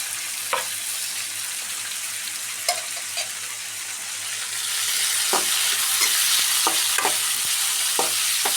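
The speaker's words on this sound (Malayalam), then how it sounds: "ഇവിടെ നമ്മുടെ വഴുതനങ്ങ നേരിയതായിട്ട് ഫ്രൈ ആയിട്ട് വരുന്നുണ്ട്." Thin brinjal slices frying in oil in a pan, a steady hiss of sizzling that swells louder partway through, with scattered light clicks and scrapes of stirring.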